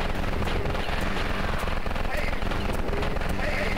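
A chain gun fires in the video game Eisenfaust: Origins Remastered, a loud, unbroken rapid rattle of shots that lasts the whole stretch.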